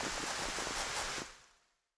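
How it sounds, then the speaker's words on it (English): Steady broadband hiss of rain in the video game Black Geyser, loud and continuous, then tapering off and fading to silence within about half a second. "Yeah, the rain is a little loud, isn't it?"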